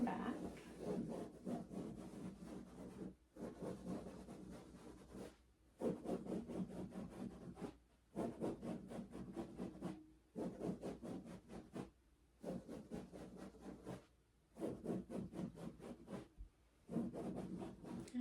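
Steady rhythmic scratching strokes during a soft-spoken ASMR back massage, moving down the back in close, continuous passes broken by short pauses.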